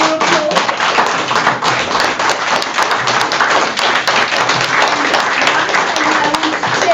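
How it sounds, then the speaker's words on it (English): An audience applauds steadily, a dense wash of clapping that holds at the same level throughout, with a voice faintly underneath. "But John, stand up for your applause."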